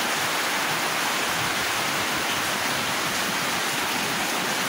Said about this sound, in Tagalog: bigla na lang bumubuhos yung ulan